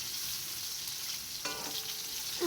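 Eggplant pieces frying in a little oil in a pan in a village kitchen, a steady close hiss of sizzling with a brief bubbling burst partway through and a soft scrape near the end.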